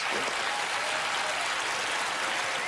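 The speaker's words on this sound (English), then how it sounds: "You can applaud for her as she does." Studio audience on the TV magic competition Penn & Teller Fool Us clapping steadily, a dense broadband wash of many hands with no break and no speech over it.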